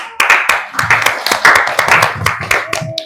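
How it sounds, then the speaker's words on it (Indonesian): A group claps together at a classroom teacher-training session, ahead of a group reading out its discussion results. The dense, steady burst of clapping hands lasts about three seconds and sounds close. "mari kita beri tepuk tangan terlebih dahulu"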